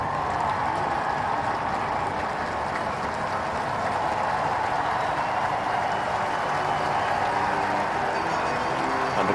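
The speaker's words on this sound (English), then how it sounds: "3 cheers from the crowd." A large crowd cheering and applauding at the Queen's birthday parade flypast, a dense, steady roar of claps and voices that holds loud and unbroken throughout.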